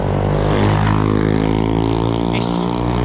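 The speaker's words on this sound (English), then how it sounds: "Traffic noise is noisy today." Heavy rush-hour traffic on London Road, a busy thoroughfare through Biggleswade, with vehicles passing close by; a loud, continuous engine rumble and tyre roar that swells as a vehicle goes past near the middle.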